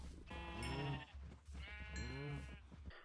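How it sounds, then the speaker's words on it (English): Two distinct bleating animal calls sound in Minecraft, each a wavering, nasal cry about a second long separated by a short pause, clear and isolated against a quiet background. "Let's breed up the cows."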